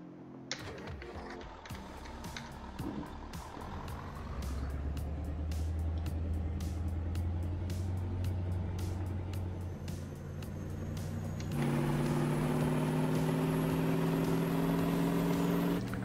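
Turbo Star loader wagon pulled by a tractor in a farming video game: a steady low engine drone with repeated light clicking, then a louder, fuller mechanical whine with a high tone joining partway through.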